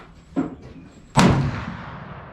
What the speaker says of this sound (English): I'm going to take shot number 3 at 50 yards.